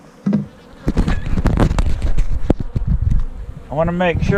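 Honeybees buzz loudly and close around an open nuc hive, a busy droning hum with a sharper rising whine near the end, partly under a speaking voice.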